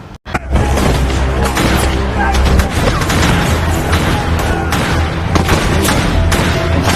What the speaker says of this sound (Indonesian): Terjadilah baku tembak antara Guerrero dan gerombolan Jackson Boomer.